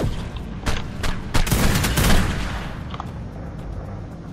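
An automated turret in ARK Genesis fires a rapid burst of sharp shots, clustered booming cracks peaking mid-clip, then tapering to a few scattered pops.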